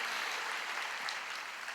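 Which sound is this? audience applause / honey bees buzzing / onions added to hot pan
audience applause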